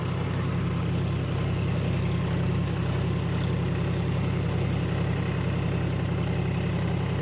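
A tractor engine runs at a steady, unchanging drone while ploughing a field, a continuous low rumble heard close throughout with no speech.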